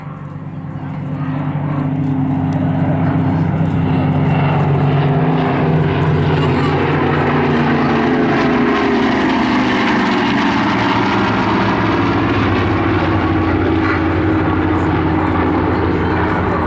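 A formation of propeller planes from the Battle of Britain Memorial Flight roars past overhead on a memorial pass at an airshow, a loud sustained droning hum that rises in and stays heavy throughout.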